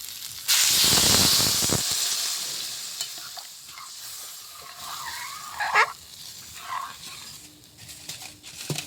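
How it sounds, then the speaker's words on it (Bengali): Water poured into a pan of fried potatoes and taro greens hits the hot oil with a loud, sharp sizzling hiss lasting about a second, then settles into quieter bubbling with scattered stirring and scraping sounds. "আলু দিয়ে আর তেলা কচু শাক দিয়ে ভাজা হয়ে গেছে, এবার জল দিয়ে দেবো।"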